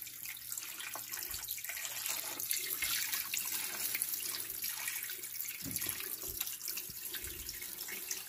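Water runs steadily with a soft splashing hiss as it fills incubator trays, low in level and continuous, with a few small clunks.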